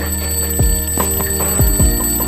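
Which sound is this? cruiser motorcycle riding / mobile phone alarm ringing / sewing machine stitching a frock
mobile phone alarm ringing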